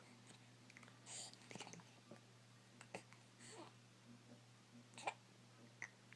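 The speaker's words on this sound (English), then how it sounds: "Oh, no, now you have the hiccups." A baby's soft hiccups, faint and close, come as several short, irregular bursts in a quiet indoor room.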